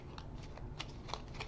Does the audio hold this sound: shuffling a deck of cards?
yes